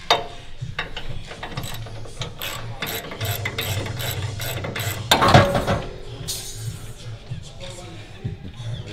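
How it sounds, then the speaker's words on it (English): Removing a screw from a car exhaust section during a DIY exhaust install, with repeated ratcheting clicks in a steady rhythm, a metallic clatter midway, and scraping and rubbing close by. "So now we're going to remove the screw."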